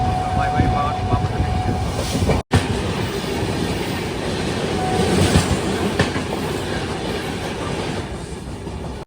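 A train rushes past Bapatla railway station without stopping, heard from aboard as a loud, steady roar of wheels and rushing air with rhythmic clatter throughout and a brief dropout partway.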